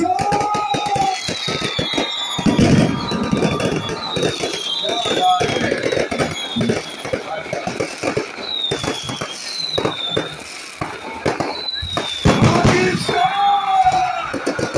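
A loud concert crowd at a show for Pakistan's 14 August celebrations yells and cheers, with shrill whistles, cracking pops and voices rising over a constant roar.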